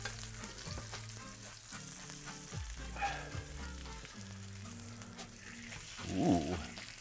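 Pineapple fries in browning butter in a pan, a soft steady sizzle with occasional stirring scrapes and a brief louder bubbling burst near the end, no talking.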